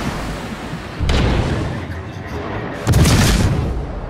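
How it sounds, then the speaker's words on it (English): Enemy cruiser blowing up in a naval war game set off Fiji, two heavy booming blasts about two seconds apart over a steady low rumble of battle noise. "Enemy cruiser destroyed!"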